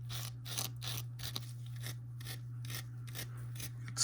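Metal scraping at the hook slot of a Singer 431G sewing machine, a series of short rasping strokes in quick rhythm, close and fairly quiet over a steady low hum.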